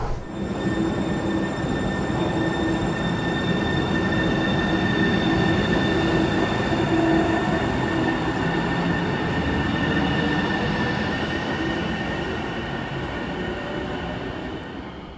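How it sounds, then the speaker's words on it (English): A Seattle light rail train runs through the downtown Bellevue tunnel with a steady, enclosed rumble and roar, a faint wheel squeal, and high tonal whines above. The sound holds loud and constant, then eases slightly toward the end. "Almost immediately after we leave East Main Station, we enter the tunnel, the downtown Bellevue tunnel"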